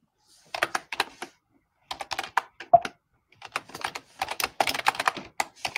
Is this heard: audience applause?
no